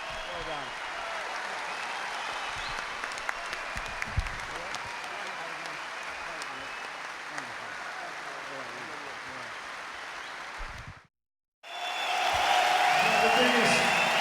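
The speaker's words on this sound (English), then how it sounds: "The biggest applause of the evening, because these are the people we're here for." Audience applause at the Royal Albert Hall after a concert, sustained dense clapping and cheering that holds steady, cuts briefly to silence, then returns just as full, with a voice speaking over it.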